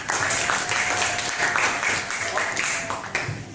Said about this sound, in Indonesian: Tepuk tangan tuh yang tepuk tangan